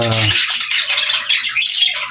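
Harsh, shrill bird squawks from a cockatiel, repeated in quick succession and loud throughout, with a lower rumble at the very start.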